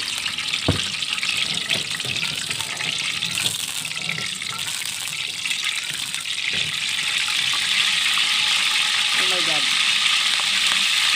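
Milkfish liver patties frying in a very hot pan, a loud continuous sizzle with occasional clinks and spoon scrapes, as someone talks quietly over it.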